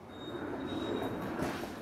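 A Seoul subway train rumbles steadily on its rails, with a broad continuous roar and a faint high whine from the wheels, close and unbroken with no talk.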